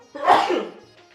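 A single sharp, close sneeze bursts out and fades quickly, followed by a brief quiet.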